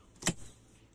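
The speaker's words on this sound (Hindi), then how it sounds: "बोनट खोलने के लिए आपको ये लीवर खींचना है" A single sharp mechanical click-clunk close by as a Swift Dzire's bonnet release lever is pulled, brief and crisp, followed by near silence.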